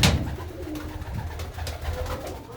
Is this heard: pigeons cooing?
yes